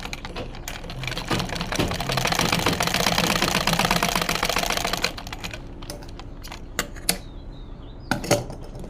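A sewing machine stitches the end of the neck placket on a kameez, where a zip or button plate is fitted at the front. It runs in a steady, close mechanical whir for several seconds, then stops, leaving a few scattered clicks.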